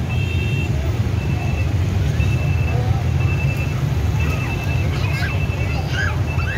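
Dense street traffic of many motorcycles in Ho Chi Minh City during a crowded Christmas evening on Nguyen Hue Street: a constant engine rumble and roar with horns and crowd noise, loud and unbroken throughout.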